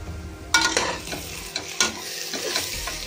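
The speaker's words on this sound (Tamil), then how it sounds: "இந்த சைட்டில் இஞ்சி பூண்டு பச்சை மிளகாய் உங்ககிட்ட சொன்ன அளவு அரைச்சி வச்சுருக்கேன், அதே இதில் போட்டு வதக்கிக்கலாம்." Ginger, garlic and green chili paste is sautéed with fried onions for prawn biryani, sizzling under a few sharp spoon scrapes and stirs against the pan, close-up with no talking.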